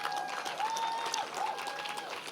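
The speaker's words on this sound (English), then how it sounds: "I think you should clap for BRG for this." Audience applause at a live goal setting and vision board seminar, a steady wash of clapping that holds for about two seconds, with a sustained musical tone and a voice faintly audible underneath.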